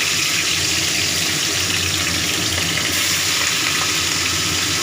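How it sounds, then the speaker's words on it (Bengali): Fish frying lightly in hot oil in a wok, giving a steady, loud sizzle that runs unbroken for the whole stretch with no voices over it. "কড়াইয়ে তেল গরম হয়ে গেছে এবারে এই মাছগুলো আমি অল্প হালকা করে একটু ভেজে নেব"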